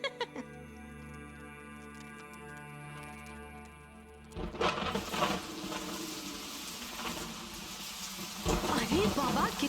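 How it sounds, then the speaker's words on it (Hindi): Heavy rain in a cartoon episode, coming in as a dense, loud downpour after a quieter musical opening, with thunder-like rumbles and bursts toward the end. "कितने जोर की बारिश है"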